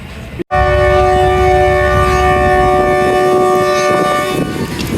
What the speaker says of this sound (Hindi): So departing whistle has been done.